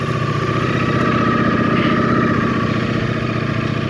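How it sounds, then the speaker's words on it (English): A 2024 Ducati Streetfighter V4 motorcycle engine warming up, a loud, steady close-range rumble with a fine pulsing texture and faint popping throughout; no talking. "It's popping because of the engine warming up."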